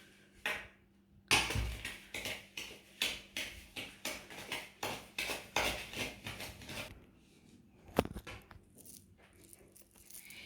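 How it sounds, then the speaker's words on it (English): Sugar and eggs are mixed in a bowl, producing a steady run of quick, evenly spaced clinking and scraping strokes that go on for several seconds, then fall off into quiet with one sharp knock near the end. "sugar, and eggs. In a bowl and mix together."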